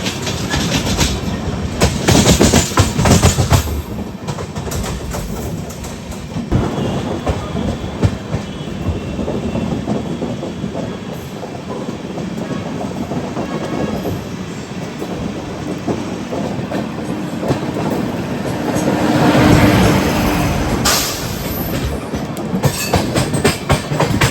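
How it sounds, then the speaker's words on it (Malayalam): The Punjab Mail, an old, legendary Indian Railways express running from Mumbai CSMT to Firozpur, passes with a loud, close, continuous rumble and rhythmic clatter of wheels that swells and eases across the whole stretch. "പഞ്ചാബ് മെയിലാണ് ഈ പോകുന്നത് കേട്ടോ"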